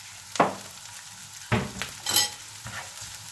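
Peppers and a small onion frying in a knob of butter with a thread of olive oil, a soft sizzle punctuated by a few stirring scrapes and tossing clatters in the pan, close up.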